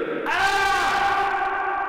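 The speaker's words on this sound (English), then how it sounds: "So when you scream in here," A person's scream rings out in an echoing exhibit room, a sustained wailing tone that swells and then hangs and slowly decays into a long reverberant tail, loud and close.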